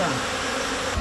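Honeybees buzz in a steady, dense drone that fills the whole second at moderate loudness, with no voices over it.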